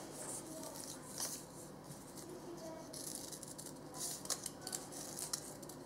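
Scissors snip through paper while cutting out small shapes for a snowy craft, with repeated crisp cuts and rustling paper at close range, some sharper snips standing out toward the end.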